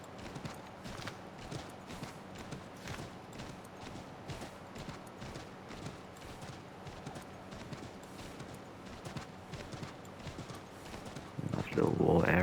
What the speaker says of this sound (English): Especially how slow my horse is going.